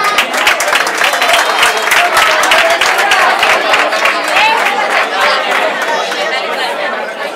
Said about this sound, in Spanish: subimos un fuerte aplauso para ella, claro.